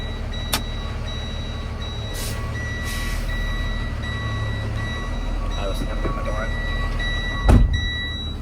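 A truck's reversing alarm beeps steadily in an evenly spaced pattern as it is shifted from park into reverse, heard close by under low cab hum with a person talking.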